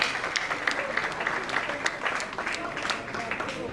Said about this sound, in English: Can we clap for the speaker that just left?